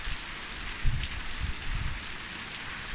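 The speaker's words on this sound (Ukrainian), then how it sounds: "Йде в нас дощ, грязючка." Steady rain falls across the scene in a wet, muddy rural setting, a continuous soft hiss with a few low thuds, close and moderately loud with no one speaking.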